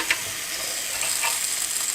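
Pork chops sizzle inside a Ninja Foodi Smart XL Grill, giving a steady, close hiss with a couple of faint clicks, and no voices present.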